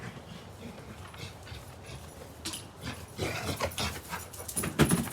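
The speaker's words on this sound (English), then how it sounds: "You hear my dogs?" Dogs panting and huffing nearby with soft whimpers and scuffling, growing more active and louder toward the end.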